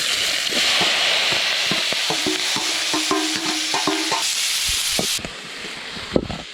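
White onion and pineapple fry in a hot pan for a fish dish, making a steady close sizzle with scraping and stirring clicks throughout. The sizzle drops off sharply near the end, leaving a few scattered taps.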